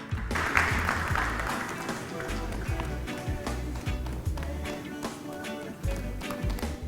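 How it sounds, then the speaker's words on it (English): An audience applauds at the inauguration of a foundation's first ladies initiative, with dense clapping mixed with music and rhythmic thumps, fairly close and continuous throughout. "Ladies and gentlemen, let's show her some round of applause."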